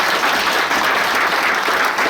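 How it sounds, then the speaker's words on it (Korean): Audience at a local community self-governance meeting clapping together, a dense, even burst of applause filling the room, fairly loud and without speech. "네, 박수 한번 주십시다."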